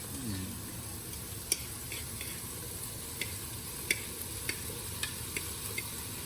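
Textured vegetable protein goes into a pan of softened zucchini for veggie pasta, with a low, steady sizzle under light scraping and scattered sharp clicks from a spoon against the pan.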